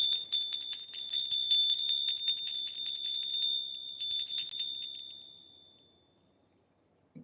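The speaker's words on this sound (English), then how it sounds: "When this bell gets struck," Close strikes on a small bell in a steady run, its bright ringing tone holding through the hits, then a final strike left to fade slowly into silence.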